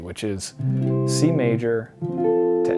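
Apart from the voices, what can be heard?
No everyday noise stands out behind the speech.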